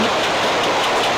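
Passenger train running between Arakkonam and Chennai, a steady loud rushing roar with rattling, heard continuously for a brief moment from on board.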